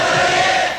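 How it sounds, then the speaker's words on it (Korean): Archival 1980 recording of citizens shouting in response to an anti-dictatorship speech in Gwangju: a dense crowd roar, loud and sustained, fading slightly at the end. "그 연설에 호응하던 시민들의 함성도 고스란히 담겨 있습니다"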